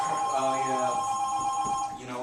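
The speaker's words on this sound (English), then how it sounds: "Do we want to answer this or let it ring?" Telephone ringing during a podcast recording, a steady electronic ring with sustained tones that continues for about two seconds before dropping off, loud and close.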